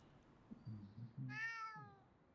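A cat in an indie horror game gives a clear, close meow that rises and then falls, preceded by a few soft low purring chirps against quiet background ambience.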